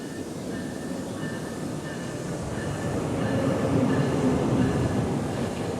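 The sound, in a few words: train arriving at station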